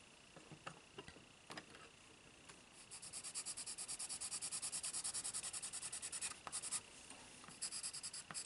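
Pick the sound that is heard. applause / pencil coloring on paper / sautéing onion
pencil coloring on paper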